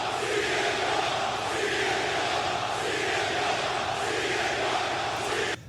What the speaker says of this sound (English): No, people are chanting CM Punk.